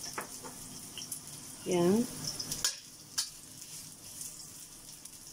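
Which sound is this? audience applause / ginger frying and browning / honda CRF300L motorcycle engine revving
ginger frying and browning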